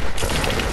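Rapid minigun fire in a video game, a dense, continuous burst of loud overlapping shots lasting under a second.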